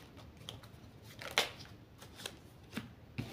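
Angel oracle cards are shuffled by hand in a quiet room. Soft, faint rustles are broken by a few sharper snaps and flicks of the cards at irregular intervals.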